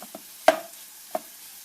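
Beef doner heating in a pan and tapped with a spoon, a couple of sharp metallic taps standing out over a faint sizzle, close and without speech.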